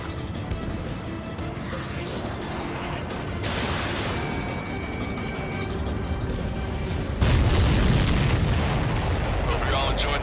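Explosions in Ace Combat 7, during mission 17 "Homeward" with an ADF-11F Raven, booming under a continuous jet roar, with a louder burst near the end and voices talking over it.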